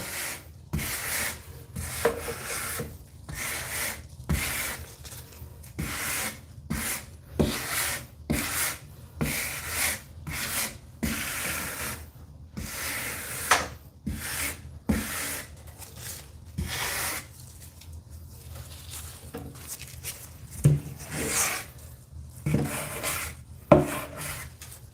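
A tool scrapes excess grout along the top of a shower wall in a series of rapid, close rasping strokes, some short and some longer, continuing in an uneven rhythm with brief pauses.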